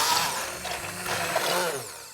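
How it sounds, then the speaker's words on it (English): An immersion blender whirs through enchilada sauce made with avocado, a continuous buzzing motor drone with shifting, churning texture as the blade works the mixture, fairly loud and close throughout with no talking. "so lucky we have an immersion blender"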